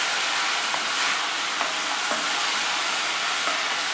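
Bacon and onions fry in a pan with a dense, continuous sizzle and crackle, fairly close and steady, punctuated by a few faint pops and stirring taps, with no talking.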